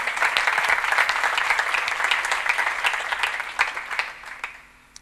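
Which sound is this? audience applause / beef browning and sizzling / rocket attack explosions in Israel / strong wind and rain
audience applause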